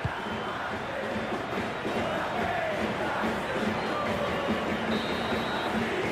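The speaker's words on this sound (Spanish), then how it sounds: "El pitazo final que arranca una espléndida ovación de los locales" A large stadium crowd in a FIFA 21 football video game roars and cheers continuously at the final whistle, a dense wash of voices rising into a sustained ovation.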